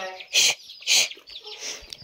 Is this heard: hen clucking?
yes